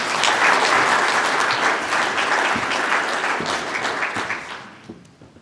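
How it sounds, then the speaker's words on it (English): Steady applause from an awards-evening audience at a young farmer of the year ceremony, a dense wash of clapping that holds loud for several seconds before thinning and fading out near the end. "So you might give Tomas a big round of applause."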